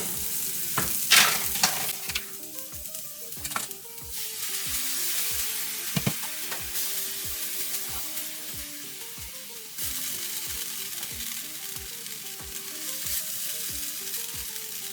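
Chorizo gravy sizzles steadily in a pan as milk is stirred in, with a spoon scraping the pan in a regular rhythm throughout and occasional louder clinks and bursts of frying, all close up with no voices.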